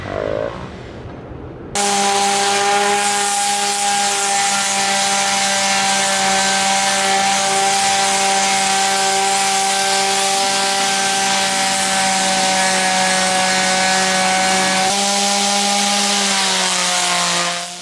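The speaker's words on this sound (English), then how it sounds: "So I finished sanding down the dividing frames here." A steady, loud power-tool whine with a strong harmonic hum from sanding bamboo frames runs continuously, dipping slightly in pitch near the end, after a brief quieter start.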